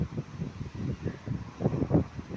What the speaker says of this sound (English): But yeah, the gusts are like up to 70k, like this one.